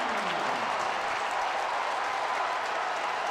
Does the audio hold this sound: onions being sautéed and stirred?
no